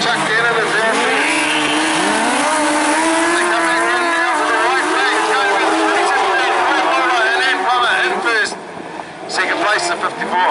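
Speedway sidecar motorcycles race around a dirt track at a meeting, their engines roaring loud and close with rising and falling revs as they pass, while a race announcer talks over the din.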